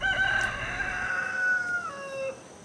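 A rooster crows with a long, wavering call as chickens cluck at a chicken farm in a coffee-growing farming community in Honduras, clear and fairly close over steady outdoor background noise.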